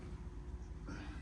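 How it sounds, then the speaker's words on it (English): A cat meows at a window, a faint, brief call heard at a distance under a low background hum. "Sorry if you can hear a cat meowing there."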